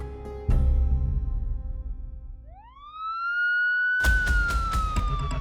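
A police car siren sweeps upward and then wails loud and close, joined by sharp bursts, in a dramatized scene of a speeding police car in New York on December 8, 1980.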